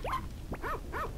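A few short, synthetic-sounding dog barks in Harvest Moon: Friends of Mineral Town, evenly spaced and close, with a rising electronic chirp before them.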